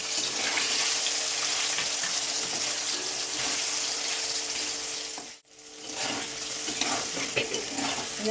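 Paneer cubes fry in hot refined oil, giving a steady, close sizzle that runs unbroken and drops out for a moment about two-thirds of the way through before resuming. No one speaks.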